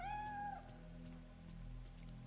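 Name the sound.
cat meowing in video game Fatal Frame 3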